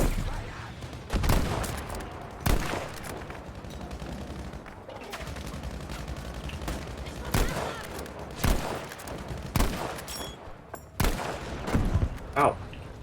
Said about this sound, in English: There's two people in that building over there. Fucking shooting me.